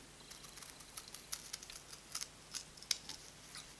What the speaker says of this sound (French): Et ensuite, je découpe en suivant le tracé.